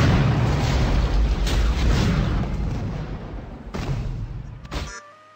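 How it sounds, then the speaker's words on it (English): Explosion in a Pokemon Special Pikachu Edition video game battle, a loud crackling burst of noise that sustains, pulses again, then cuts off abruptly. "Wow, man, look at that explosion!"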